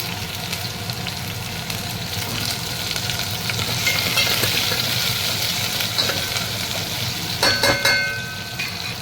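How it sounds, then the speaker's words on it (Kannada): Garlic and one or two green chilies fry in a pan for Gujarati dal dhokli, a steady close sizzle with stirring, swelling slightly, then a few sharp clinks near the end. "ಇದ್ರ ಜೊತೆಗೆ ನಾನು ಸ್ವಲ್ಪ 1-2 ಹಸಿಮೆಣ್ಸಿಕಾಯಿ ಹಾಕ್ತಾಯಿದ್ದೀನಿ."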